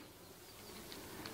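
A steady, even hum of Italian honey bees fills an open hive during inspection, the buzzing close and continuous with a few brighter individual passes near the end.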